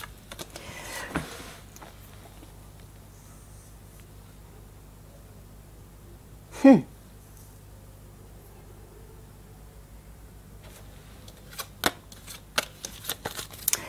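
Cards for a reading are shuffled in soft, papery bursts: a riffle early on, a sharper flick in the middle and a few quick taps near the end, with quiet room hiss between them.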